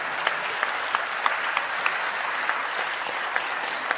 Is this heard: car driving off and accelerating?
no